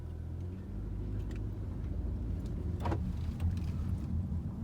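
Interior of a 2020 Toyota Corolla pulling away and driving, with a steady low engine and road rumble throughout and no one speaking.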